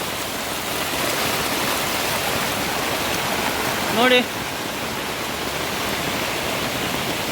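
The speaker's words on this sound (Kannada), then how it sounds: "ಅಲ್ಲಿ ಈ ಥರ ಮಳೆ ಬಂದು ಈ ಥರ ನೀರು ಬರ್ತಿರೋದು" Rainwater rushes and flows across land in a steady broadband roar, heavy and continuous, with a brief voice cutting in once near the middle.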